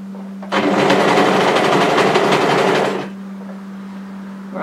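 An overlocker runs on a garment seam in a loud, close, steady whirring burst of about two and a half seconds, then stops, leaving a low hum.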